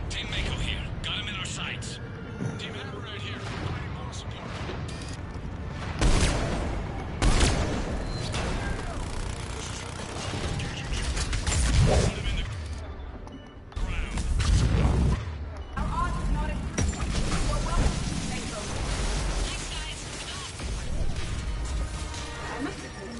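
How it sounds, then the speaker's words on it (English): Heavy booms, crashes and bursts of gunfire-like blasts as mechs explode in a chaotic Mass Effect 3 battle, with loud impacts recurring amid voices talking. "Observing mech explosions is oddly satisfying."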